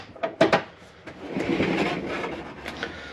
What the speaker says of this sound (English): so you have your sliding door here